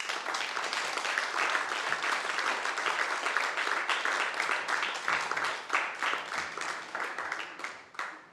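An audience applauds at the Cankar Award ceremony, a dense, steady round of clapping from many hands that continues throughout with no speech.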